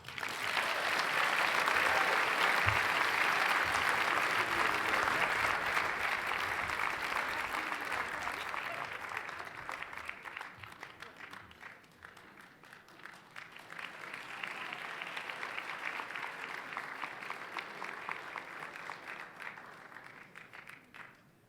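A gala audience for a housing charity breaks into long applause, loud and dense at first, dipping midway, then swelling again before fading.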